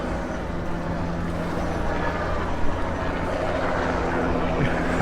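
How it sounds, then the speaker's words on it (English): A steady, broadband engine drone with a low rotor hum holds throughout, a helicopter passing overhead at moderate distance over Miami, with no voices. "helicopter up above, it's all going on"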